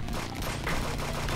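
Video game shooter gunfire rattles in a rapid, dense burst of repeated shots, loud and continuous across a short stretch with no talk over it.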